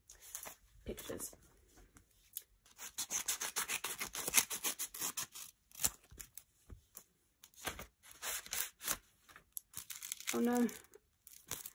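Plastic packaging crinkles and tears as a parcel of girl-group merchandise is unwrapped, close and scratchy in bursts, with brief speech in between.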